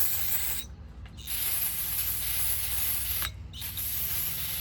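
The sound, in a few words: brake cleaner sprayed onto a motorcycle bearing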